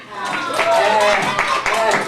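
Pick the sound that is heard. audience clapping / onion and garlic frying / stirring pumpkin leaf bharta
audience clapping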